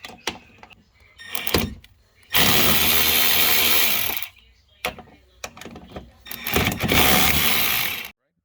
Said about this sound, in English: afterwards I'm gonna hit them with my ratchet